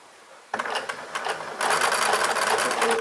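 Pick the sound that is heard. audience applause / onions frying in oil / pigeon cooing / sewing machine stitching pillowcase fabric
sewing machine stitching pillowcase fabric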